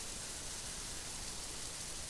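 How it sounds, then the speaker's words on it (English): Steady, soft rain patters on a tin roof, a faint even hiss running through the whole stretch with no clear individual drops and no voices. "so I am unfortunately having to record on a rainy day"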